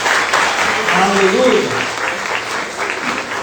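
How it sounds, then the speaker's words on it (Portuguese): A church congregation at an evening Portuguese-language service claps steadily throughout, with a voice calling out over the sustained applause. "Dê um aplauso ao Espírito Santo."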